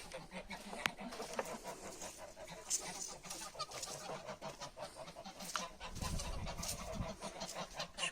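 Chickens and a rooster in a farm coop, with geese also kept there: a busy, continuous mix of clucking and crowing across the yard, moderately close, steady throughout with no clear talk over it.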